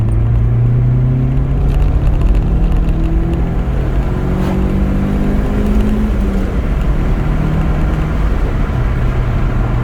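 A car with a Rover K-series engine accelerates hard in second gear from about 30 mph, the engine note climbing steadily in pitch under loud, constant road and wind roar.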